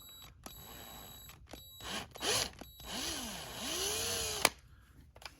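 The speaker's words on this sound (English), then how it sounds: "I'm just drilling it slow" A power drill on high speed, fed slowly into metal, whirs in short bursts, its pitch rising and falling as it spins up and slows, with quiet gaps between.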